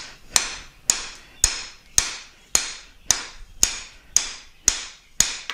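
Hammer blows forge a beveled scarf on hot steel for a froe, ten sharp ringing strikes at a steady rhythm of about two per second, each with a short metallic decay, loud and close.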